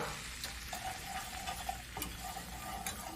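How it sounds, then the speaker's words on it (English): All-purpose flour is whisked into a pan over medium heat for enchilada sauce. The whisk scrapes and ticks quietly in a rhythm against a soft sizzle, close by and faint, with no voices. "Whisk in my flour now."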